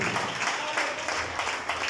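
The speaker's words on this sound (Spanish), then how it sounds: "Denle un aplauso a Cristo el Señor." Congregation applauding during a church service, a steady wash of clapping that fills the whole stretch at moderate level with no clear breaks.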